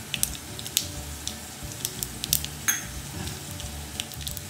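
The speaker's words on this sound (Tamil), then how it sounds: "எண்ணெய் காஞ்சிட்டு கடுகு, கொஞ்சம் உளுத்தம் பருப்பு," Mustard seeds, urad dal and cumin sizzle in hot oil for a tempering, a steady crackle with sharp pops scattered throughout, close and fairly loud, with no talking.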